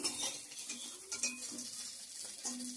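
Cabbage pakoras are stirred and lifted out of a pan of hot oil, with a steady sizzle of frying under scraping and clinking of a utensil against the pan, close and moderately loud, with no talking.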